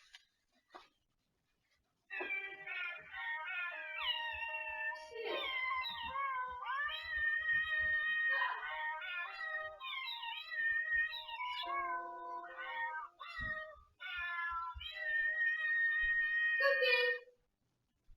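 Several house cats meow repeatedly in a long, drawn-out sequence, their calls fairly loud and close, rising and falling in pitch with brief pauses between phrases.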